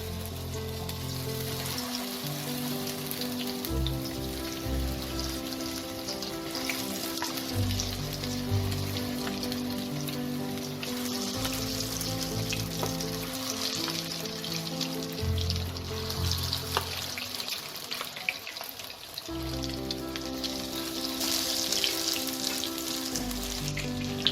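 Fish pieces fry in plenty of hot white oil over slow to medium flame for Kolkata-style chilli fish, a dense, continuous close sizzle with rain-like crackle and small bursts, no voices.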